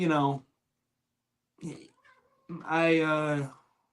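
A house cat meows close by, first a short call, then a softer chirp and a longer, drawn-out meow, with quiet pauses between them.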